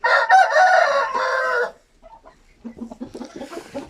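A Hint rooster crows loudly and close by in one long call, followed by softer clucking and low chatter from the fowl.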